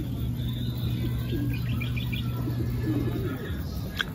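A racing pigeon named Black Grizzle circling back to its loft, with soft cooing and brief chirps over a steady outdoor hum, close and fairly faint.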